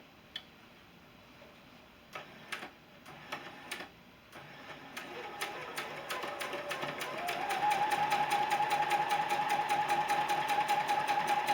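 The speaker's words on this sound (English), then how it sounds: "stitch these two pieces together" A sewing machine joins two quilt pieces with a quarter-inch seam, starting with slow separate ticking stitches that speed up into a steady, continuous whirring hum, close and alone.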